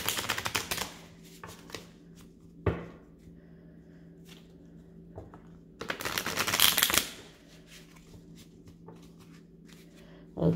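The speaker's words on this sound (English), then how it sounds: "let's just shuffle it a little bit" A deck of oracle cards is shuffled by hand in a few short riffling bursts, close and crisp, separated by quiet pauses and faint handling noises.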